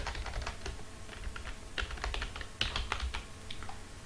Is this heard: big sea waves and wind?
no